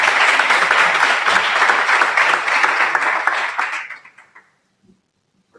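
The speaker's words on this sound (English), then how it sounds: "Big applause, please." A meetup audience claps loudly and steadily for about four seconds before the applause tapers off into silence.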